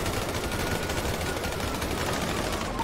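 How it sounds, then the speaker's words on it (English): Rapid automatic gunfire in a video game police chase with helicopters landing on a rooftop, a dense continuous crackle of shots filling the whole stretch at steady loudness. "shots fired, shots fired, shots fired"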